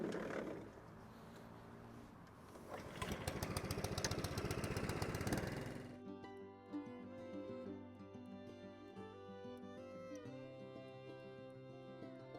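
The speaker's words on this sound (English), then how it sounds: "So let's go and get the mower out and we'll get cracking." A lawn mower engine roars to life for grass and moss cutting, loud rattling for a few seconds, then settling into a steady, quieter drone, with no talking.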